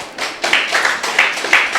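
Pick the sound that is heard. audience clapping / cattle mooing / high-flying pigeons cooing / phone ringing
audience clapping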